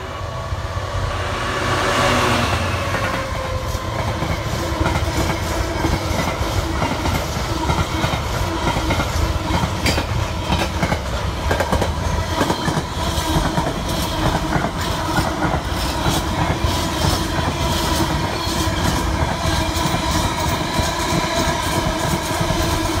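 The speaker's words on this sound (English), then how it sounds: "Now let's jump back earlier in the year and see 66709 Sorrento in its MSC livery." Class 66 locomotive 66709 runs past with its train, its engine giving way to a steady, loud clickety-clack of wagons rolling by close for the whole stretch, with no voices.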